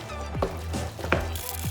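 Chocolate cake batter made without butter, with grated zucchini, being mixed in a bowl, giving a few soft scraping strokes at a slow, uneven rhythm, close and fairly quiet.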